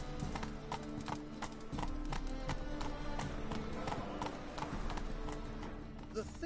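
Geralt's horse Roach gallops in The Witcher 3, rapid clip-clop hoofbeats pounding in a steady rhythm, close and continuous, while a voice speaks over the hooves.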